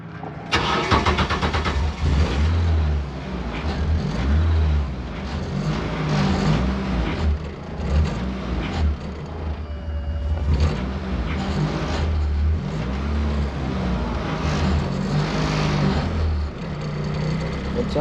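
A Renault Clio 2 Cup engine runs loud and close, holding a steady throaty idle with light blips of throttle throughout, rough and continuous with no pauses.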